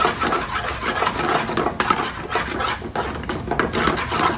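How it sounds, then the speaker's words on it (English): A crushed roasted eggplant (baingan bharta) is stirred and mixed with spices in a pan, giving a continuous close scraping and rubbing of a spoon against the pan with occasional louder knocks. "Finally, it's time to put the crushed eggplant. Then mix it properly."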